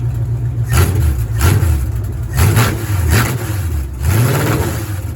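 A car engine fitted with an MSD 6AL ignition box and factory distributor revs in repeated blips, rising and falling about four times over a steady idle, close and loud.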